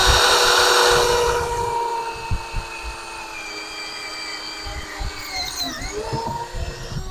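A power drill whines loudly as it bites into wood, then bogs down and slows at a knot, its pitch wavering as it struggles through the grain.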